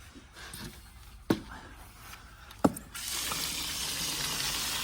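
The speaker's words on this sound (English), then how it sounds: "All we're gonna do is we're gonna take our hose," A garden hose runs water over worms in a colander, starting with a couple of sharp knocks and clatters before a steady rushing gush of water comes in close and continues to the end.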